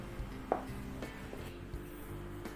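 Scissors snipping elastic band for a homemade cloth face mask, a couple of faint crisp cuts and small handling rustles, close and quiet with no talking.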